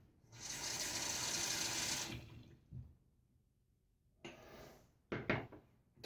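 Water runs from a tap to soak a shaving brush in a bathroom, a steady splashing rush for about two seconds, then after a pause shorter bursts of water and handling clatter, with no voices.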